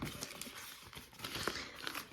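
A plastic packet crinkles and rustles while a parcel of cosmetics and household products is unpacked, continuous close handling noise with a few sharper crackles.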